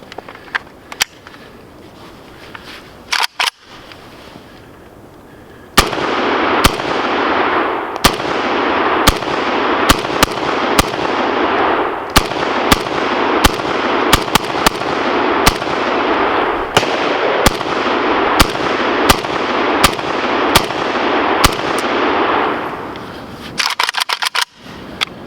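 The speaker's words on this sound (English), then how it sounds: "now it's time to have some fun and just burn some rounds through here" An Arsenal SAM7K AK-47 pistol fires a long string of loud, sharp single shots at an uneven pace, each crack ringing out, with a few rapid shots before and after the main string.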